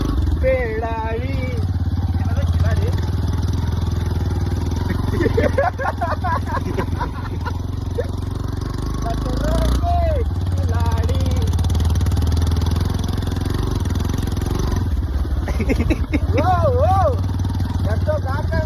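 A Yamaha FZ-S motorcycle climbs a rough off-road hill with a low, steady engine drone. The engine sits under nearly continuous nearby talking.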